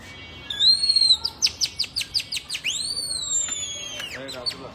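A person whistles in imitation of a bird call, with sweeping high whistles, a quick run of short chirps, then a long bending whistle. The whistling is close and clear over faint background noise.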